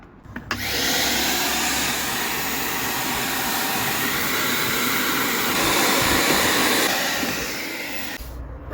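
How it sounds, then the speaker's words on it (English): Vacuum cleaner hoovering the interior of a 1975 Vauxhall Viva HC, a loud continuous roar that starts abruptly, holds steady for several seconds with slight shifts in pitch, then cuts off. "Give this a quick hoover before I lift the carpet."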